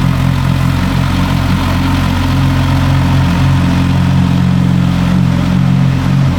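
A 600 bhp rear-wheel-drive Porsche 996 911 Turbo with an aftermarket exhaust idles steadily, a deep, loud, continuous burble with a slight uneven throb and no voices.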